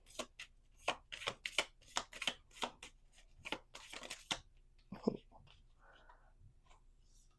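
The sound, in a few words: shuffling and pulling cards from a small deck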